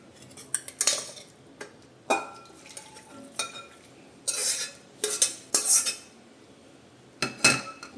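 Cooked mutton for a mandi is scooped into a bowl, metal utensils scraping and clinking against a pot in a series of irregular, sharp close-up knocks separated by short quiet gaps, no speech.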